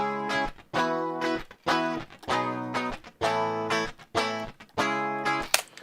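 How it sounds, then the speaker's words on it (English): Two slightly panned crunchy electric guitar tracks recorded DI, strumming chunky distorted chords in short bursts with brief gaps, loud and alone. "But hey, let's show you the crunchy guitars."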